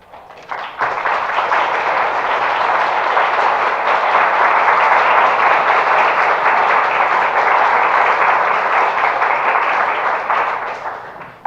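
An audience applauds after a presentation, with dense, sustained clapping that starts abruptly, holds steady and loud for about ten seconds, then fades out.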